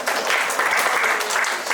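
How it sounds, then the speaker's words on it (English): Audience applause at an innovation and entrepreneurship talk, a dense steady clatter of many hands clapping at close range for under two seconds, with no voices over it. "Now clap for him."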